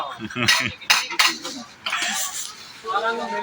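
Metal kitchen pots and utensils being handled in a market shop in Gidderbaha, Punjab: a few sharp clanks and clinks close by in quick bursts, with people talking between them.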